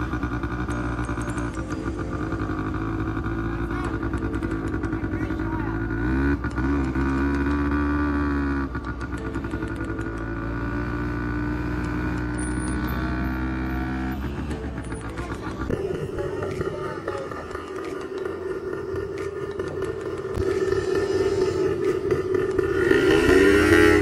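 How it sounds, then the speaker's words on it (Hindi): Quad bikes rented for a desert ride in Saudi Arabia rumble and idle nearby, their engines revving unevenly and shifting pitch as they set off, with a louder rev rising near the end. "अभी हमने रेंट पर जो है ये मोटर बाइक्स ले लिए और अब हम इस पर बैठकर जो है डेजर्ट की तरफ जा रहे हैं।"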